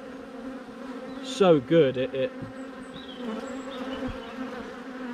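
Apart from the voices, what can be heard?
honeybees buzzing around a hive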